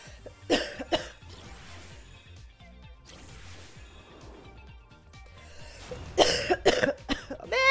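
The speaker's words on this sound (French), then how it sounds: "J'ai toussé." Loud coughing near the start and again near the end, bursts of two or three sharp coughs, with quieter rustling in between.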